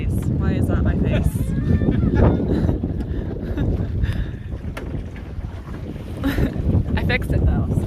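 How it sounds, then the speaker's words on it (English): Steady wind buffets the microphone aboard a small Core Sound 20 Mark III sailboat on the Skeena, with water rushing along the hull, continuous and close, while people talk over it. "The wind's dying just a little bit."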